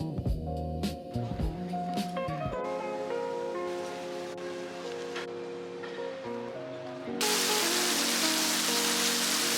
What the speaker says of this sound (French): il pleut sa grand-mère. C'est une dinguerie.